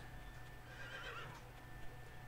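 Horses in the LEGO Worlds video game give a faint, brief whinny over a low steady background.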